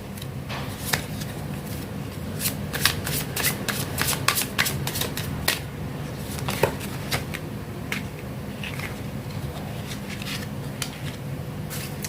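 Tarot cards being shuffled by hand, a steady papery riffling with sharp snapping flicks scattered throughout, close and clear over a low background hum, with no talking.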